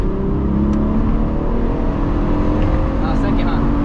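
A third-generation Mitsubishi Eclipse pulls hard after a late gear shift, its engine a loud, steady droning roar heard from inside the car with constant road and wind noise and no clear change in pitch.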